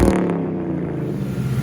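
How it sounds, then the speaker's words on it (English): A Ford Mustang engine revs hard, a loud, close, continuous roar with a rough clattering edge that holds steady throughout. "Gave her a few hard revs"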